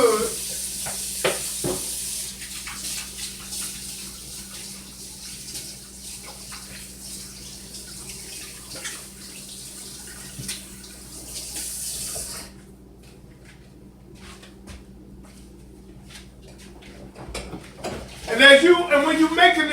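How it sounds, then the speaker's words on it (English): A kitchen tap runs in a steady, close hiss while hands are scrubbed under it, then the water cuts off, leaving quieter handling and a burst of clatter at the end. "Now I'm going to wash my hands real good."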